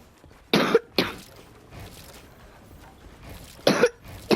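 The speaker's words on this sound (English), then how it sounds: "keep coughing." A person coughs in two separate bursts, each a quick double cough, fairly close with quiet pauses between.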